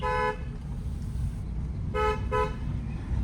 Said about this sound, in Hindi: यहाँ पे आपको एक लॉन्ग हॉर्न प्रेस करना है।